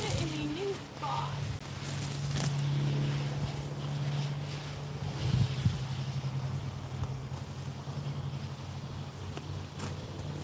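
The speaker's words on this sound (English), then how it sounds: "It's still windy, but it's calming down a little bit now." Outdoors in a garden on Vancouver Island, steady wind rumbles and buffets the microphone throughout, with a few brief gusts and clicks.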